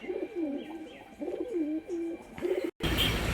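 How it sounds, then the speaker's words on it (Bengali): Two female pigeons coo in soft, rolling repeated phrases, close by and moderately quiet, over a faint background hiss, ending with a brief burst of noise. "দুখানাই মাদি পায়রা রয়েছে এইখানে"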